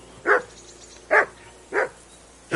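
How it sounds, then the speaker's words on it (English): A dog barks in the medieval video game Kingdom Come: Deliverance 2, four loud, evenly spaced barks, each short and sharp, separated by brief quiet gaps. "That barking was a pain in the ass."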